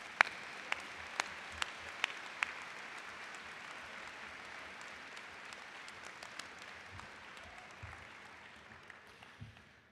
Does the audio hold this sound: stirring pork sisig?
no